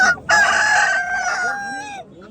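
A rooster at a poultry market in Xo'jaobod crows once, loud and close, a long strained call that trails off at the end.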